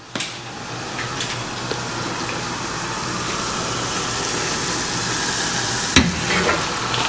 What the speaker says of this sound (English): And now she's cooking some French fries.